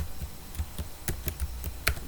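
Typing on a computer keyboard, a quick irregular run of crisp key clicks close by with no voices.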